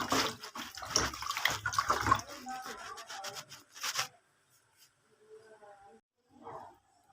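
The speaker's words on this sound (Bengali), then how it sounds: "মাছগুলো একটু ধুয়ে নেব" Fish are washed by hand in water before cooking: splashing and rubbing churn loudly for about four seconds, then give way to near quiet broken by a few faint, short sloshes.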